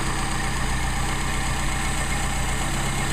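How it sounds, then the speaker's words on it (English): A Mercedes 190SL engine idles steadily at about 1100 rpm after carburetor adjustment, a close, even, continuous rumble that holds constant throughout with no voices. "And we got a solid idle at 1100."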